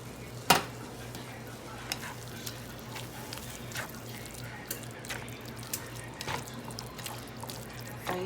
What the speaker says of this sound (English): you take some of your enchilada sauce and just pour it in the meat